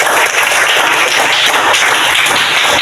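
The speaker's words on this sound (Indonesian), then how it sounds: "Jadi kita tepuk tangan dulu untuk semua kelompok." Schoolchildren in a classroom applaud all the groups, a dense, loud, continuous wash of clapping that holds steady throughout.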